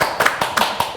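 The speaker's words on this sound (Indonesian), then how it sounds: "Tepuk tangan lah." A few people clap in a loose, sparse rhythm, about five distinct close-up hand claps within a second.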